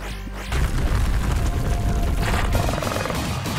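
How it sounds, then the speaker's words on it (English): An explosion in the BIOGUN video game bursts in suddenly after a brief moment of quiet, then rolls on as a loud, sustained rumbling boom that fills the rest of the moment. "That's a nice explosion"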